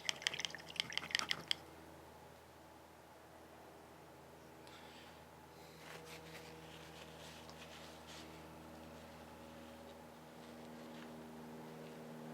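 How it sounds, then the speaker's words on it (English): A paintbrush is swished and rinsed in water to wash out paint after miniature painting: a quick burst of drips and clicks at first, then a faint, steady low hum with soft splashy rustles, close and quiet. "Actually, I'll wash the paint out."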